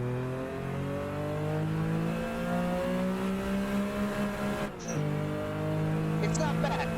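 1974 Porsche RSR 3.0 race car engine in the driving game Automobilista 2 revving up steadily from low revs on a straight, a smooth rising whine, with a brief dip as it shifts gear.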